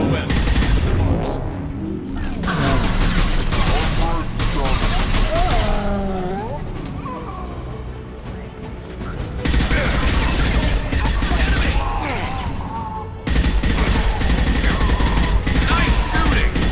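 Gunfire in the video game Mass Effect 2 during a Shadow Broker lair firefight: dense, loud automatic bursts and rattling volleys with explosions and mechanical noise, a short lull midway, and voices speaking over the battle.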